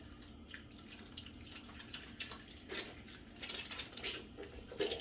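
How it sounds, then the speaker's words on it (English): Tap water running steadily while hands are washed a second time to remove greasy pomade, faint and close, with small splashes and clinks over the flow. "so I'm gonna wash it a second time"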